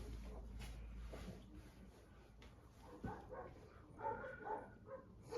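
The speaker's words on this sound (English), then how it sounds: "Dogs are going nuts." Dogs bark and yip in the background, faint and somewhat distant, in short irregular bursts over low room noise.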